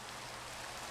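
Steady rain in Fallout 4, a dense, even hiss of falling drops with no pauses or voices, soft and continuous throughout.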